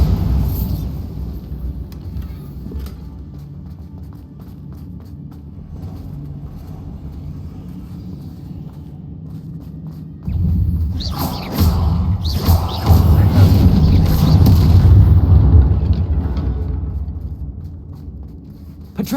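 A Bombarda spell blast from Hogwarts Legacy erupts midway as a loud, booming burst with a lingering rumble, following a quieter stretch of low ambient hum and game sounds.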